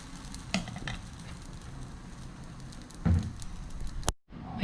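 Thosai batter sizzling on a greased skillet, a soft continuous crackle with a couple of louder scraping bursts, then a brief cutoff before the sizzle returns.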